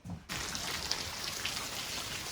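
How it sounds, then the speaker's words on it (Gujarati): Heavy rain pours steadily outdoors, a dense even hiss that starts abruptly after a brief quiet moment and holds without pause. "વરસાદ પડે છે બહુ"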